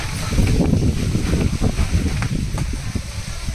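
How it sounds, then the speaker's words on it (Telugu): Strong wind roars and rumbles against the microphone in uneven gusts, a dense low rushing noise with no clear talking. "గాలి బాగా ఇచ్చేస్తుంది కదా"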